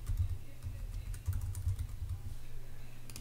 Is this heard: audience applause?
no